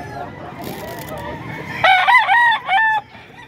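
A young Kelso-line rooster (stag) gives one loud, close crow with a rising and falling multi-part call. It follows a stretch of quieter background noise at a gamefowl sale in Bocaue.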